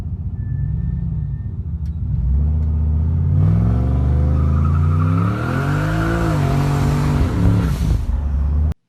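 A 1960 Chevy Parkwood daily driver with a turbocharged 6.0 LS V8 making about 625 horsepower roars loudly and steadily, its pitch climbing and sweeping through rising revs before cutting off abruptly at the end.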